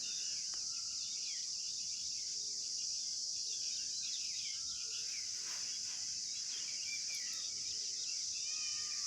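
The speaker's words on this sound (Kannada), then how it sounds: "ಪಕ್ಷಿಗಳ ಸೌಂಡ್ ಕೇಳಿ." Birds chirp and call here and there over a steady, high insect-like drone, with no talking.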